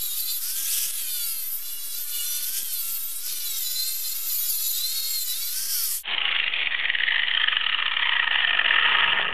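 A Harbor Freight 4.5 inch angle grinder with a flap disc grinds against metal in a loud, rough, continuous whine, then the pitch and tone change abruptly partway through as the disc bites differently.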